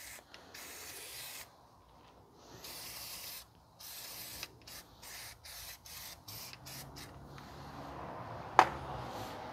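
Fluid Film lubricant sprayed from an aerosol can onto the rear brake hub of a 2006 Mazda 3 2.0, a string of short and longer hissing bursts separated by pauses, close and fairly loud, ending with a sharp click.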